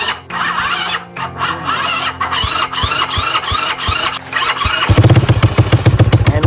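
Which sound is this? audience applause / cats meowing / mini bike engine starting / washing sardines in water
mini bike engine starting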